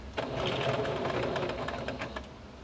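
A sewing machine runs steadily in straight stitch through denim while patching jeans, a continuous close rattling whir lasting the whole stretch with a few sharper ticks, no talk over it.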